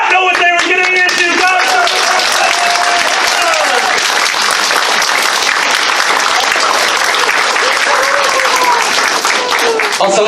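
Loud, steady applause from a large audience fills the room from start to finish, dense and continuous clapping with some cheering mixed in.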